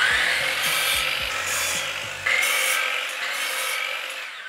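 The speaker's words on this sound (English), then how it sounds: "We're also gonna be cutting out some scrap pieces right at 16 inches too" A saw cutting scrap pieces of wood for shelf nailer strips, with a loud steady high-pitched whine that rises and drops slightly as it bites through the boards, close by, and faint knocks at the start.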